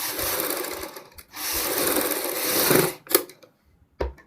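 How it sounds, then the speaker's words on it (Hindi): A sewing machine stitches a kurti front-neck facing strip, running in a loud steady burst, pausing briefly, then running long again before stopping with a few short mechanical clicks and one last quick burst. "यहाँ पे हम सिलाई लगाएंगे। एक साइड आपने सिलाई लगानी है"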